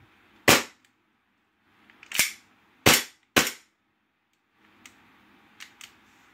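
A KWA Glock 18C airsoft gas pistol fires four sharp, loud cracks in an uneven rhythm, followed by several faint clicks as it stops firing with gas still in the magazine.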